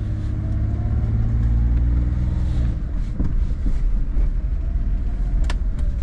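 Automatic Kei car driving off and pulling away, its small engine droning steadily with a low rumble and rising tone under road noise, heard from inside the cabin with no talk.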